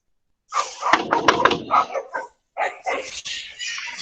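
Dogs bark excitedly nearby in clustered yips and barks, with a brief gap in the middle before the barking resumes.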